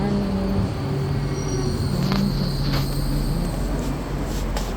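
A train rolls in with a constant rumbling roar, a few faint wheel squeals rising above the steady noise.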